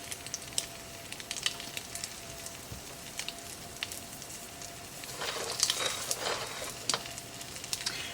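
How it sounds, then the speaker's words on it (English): Eggs frying in an overly hot pan, a steady close sizzle with crackling pops that thickens and grows louder toward the end, with no talking. "I know you don't want to sit here watching me fry eggs"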